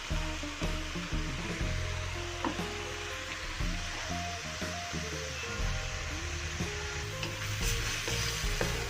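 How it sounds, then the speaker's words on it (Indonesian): Cabbage frying in a pan without water while being stirred, a continuous loud sizzle with frequent scraping and clattering strokes of a utensil, close up and without speech. "Kita aduk kembali biar matangnya merata ataupun sayurnya"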